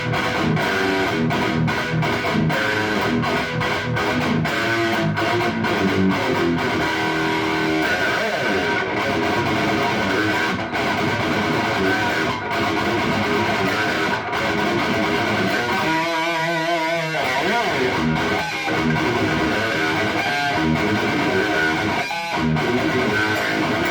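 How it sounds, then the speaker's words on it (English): Electric guitar played through an old amp on a bright, trebly channel with the reverb switched off, sounding dry and continuous with strummed chords and a busier picked passage near the end. "Same channel, just without reverb."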